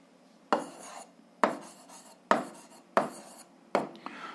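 Pen strokes writing down an answer to a 7th-grade algebra exercise, five distinct scratchy bursts at an uneven pace, close and fairly quiet, with no talking.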